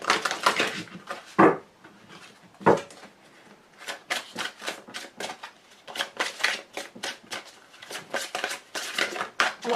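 An angel oracle card deck shuffled in the hands, giving a run of crisp riffling and flicking bursts, some sharper slaps, in an uneven rhythm, close and fairly loud with no talk.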